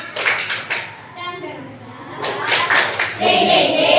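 Classroom of children clapping in a lively chant game, bursts of hand claps mixed with children's voices chanting loudly over and between them.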